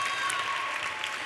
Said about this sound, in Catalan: No estan decaient, no, els aplaudiments?